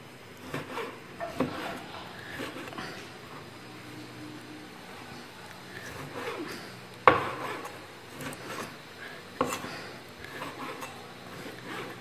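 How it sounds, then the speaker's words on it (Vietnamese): A knife slicing pork fat for cracklings on a wooden board, with soft scraping and rubbing strokes broken by a few sharper chopping taps, close and fairly quiet. "Và bây giờ mình sẽ đi thái và mình đi áp tóp mỡ."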